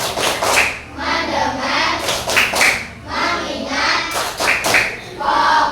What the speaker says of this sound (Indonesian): Tes breakingnya yaitu tepuk fokus.